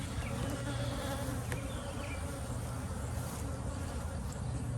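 A close, continuous hum of numerous honey bees at beehives, an even droning buzz without pauses or talking.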